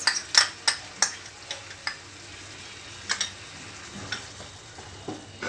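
Chicken masala cooking in a pan over medium flame, a soft sizzle under repeated sharp spatula taps and scrapes in an uneven rhythm, close and fairly quiet, no voices.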